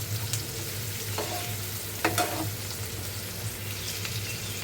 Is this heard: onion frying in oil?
yes